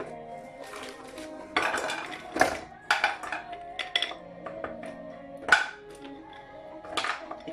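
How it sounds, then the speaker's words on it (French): Frozen spinach thuds and clatters into a metal saucepan in several knocks and scrapes, with utensil clinks, close and uneven. "Je mets les épinards surgelés dans la casserole."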